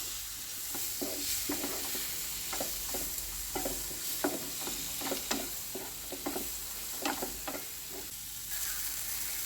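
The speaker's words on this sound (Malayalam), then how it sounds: "തക്കാളിയും കൂടി ചേർത്ത് നന്നായിട്ട് ഒന്ന് വാട്ടിയെടുക്കാം" Tomatoes sautéing in a pan for an okra masala curry, a steady sizzle broken by repeated scraping stirs at an irregular rhythm, close and fairly quiet, with no voices.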